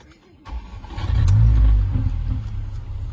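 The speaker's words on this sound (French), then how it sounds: "je vais démarrer la voiture" A Mercedes A45 AMG Edition 1 engine cranks and catches, then revs up loudly with a deep rumble before settling into a steady close idle.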